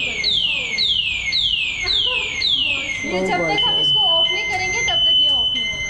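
A loud, piercing electric scooter anti-theft alarm repeats rapid descending sweeps, then switches to warbling, stuttering beeps, close by and continuous, with a voice speaking briefly underneath.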